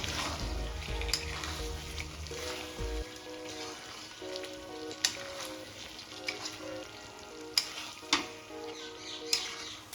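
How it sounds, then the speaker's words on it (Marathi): Small vam fish sautéing in green masala in a pan, a steady sizzle with scraping stirs and a few sharp clinks of a spoon against the pan. "आपण ही मच्छी पण मसाल्यामध्ये परतून घेऊया छान"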